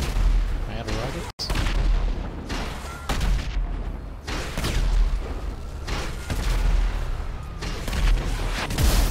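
Rocket explosions and rapid gunfire in the game GTA Online, dense and loud with repeated booms and bursts of shots running throughout, heavy low rumble between blasts, a brief dropout early on.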